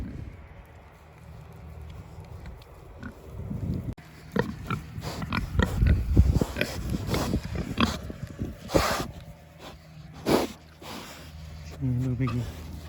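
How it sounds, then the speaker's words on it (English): Pigs on a farm field overgrown with rushes and gorse grunt and snort in short bursts, close and fairly loud, alongside intermittent talking. "happy pigs."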